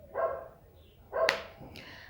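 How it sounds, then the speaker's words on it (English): A dog barks twice in quick succession, fairly close, followed by a higher yelp-like sound as the last bark trails off. "I've been sitting here for minutes trying to wait for him to stop barking, but Simba won't just stop barking."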